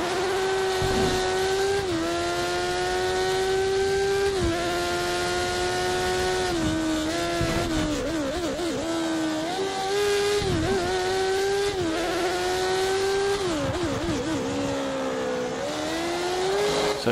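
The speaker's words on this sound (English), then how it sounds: "I love the sound of this engine." A racing car engine in a Formula 1 video game at San Marino drones loudly and continuously, pitch climbing and dropping as it shifts gears and revs, with occasional squeals and thuds over the roar.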